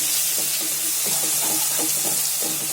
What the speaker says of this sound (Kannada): ಇದು ಚೆನ್ನಾಗಿ ಎಣ್ಣೆಯಲ್ಲಿ ಇದು ಚೆನ್ನಾಗಿ ಹುರಿಬೇಕು.